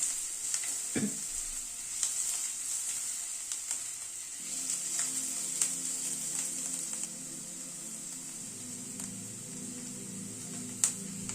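Ginger, onion and green chilli frying lightly in a pan, a steady soft sizzle running throughout with a few small clinks and stirring scrapes, close and moderately quiet.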